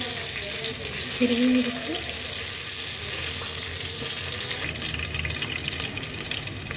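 Ghee sizzles in a pan as cumin, curry leaves and green chili go in, a steady loud frying hiss throughout, with someone speaking briefly over it.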